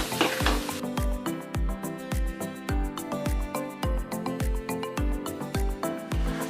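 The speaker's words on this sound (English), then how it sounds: "the peas are nicely frying and it has been nearly 2 minutes on a medium flame" Fresh green peas frying in masala over a medium flame, with a steady sizzle and a spoon scraping the pan in regular rhythmic strokes, close and clear.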